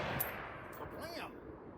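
Rifle shots at an outdoor shooting range, a .223 and a 300 AAC Blackout, with a sharp report and a booming echo that trails away over steady background noise.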